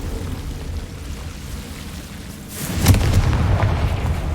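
A Confringo blasting spell detonates in Hogwarts Legacy, a sudden booming burst rising from a low rumble into a loud crackling explosion that rolls on and lingers near the end.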